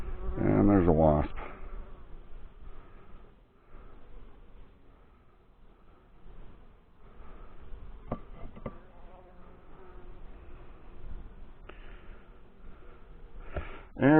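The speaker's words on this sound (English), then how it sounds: "And there's a wasp." Insects buzz steadily around a honey bee hive, including a wasp, a continuous droning hum with a few louder close passes at the start and end, faint handling noises between.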